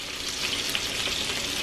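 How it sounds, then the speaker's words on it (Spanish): Hamburgers frying on a grill, a bright continuous sizzle and crackle at close range with no talking. "ya ahí van las hamburguesas"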